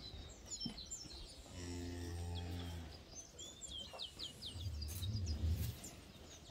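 Cattle at a livestock fair in São Vicente Férrer, Itapetim, Pernambuco, give a long, loud, low moo, then a second, rougher moo later, with birds chirping and ambient crowd noise throughout.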